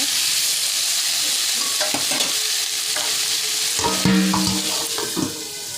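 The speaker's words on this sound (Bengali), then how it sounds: "ভাজা ভাজা করে দেবো" Chela fish sizzles steadily in a pan while a utensil scrapes and clanks against it several times, louder toward the end.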